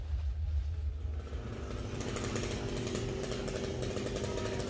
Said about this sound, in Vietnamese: kéo cái máy cưa lên để cưa mấy cái bẹ